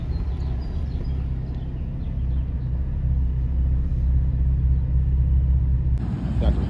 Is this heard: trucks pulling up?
yes